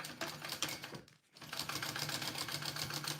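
A sewing machine basts the exterior panel of a bowler bag, running in a fast, close, rhythmic stitching chatter that halts briefly and then starts up again.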